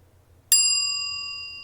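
One clear bell ding rings out with a bright metallic strike and then a long smooth fade, alone over near silence.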